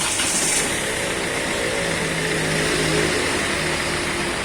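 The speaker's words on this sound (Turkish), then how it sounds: "Şu an motorumuz çalıştı." A car engine runs steadily after transmission work, a loud continuous mechanical hum with a low rumble and faint rising tones. It stays close and unbroken throughout with no talk.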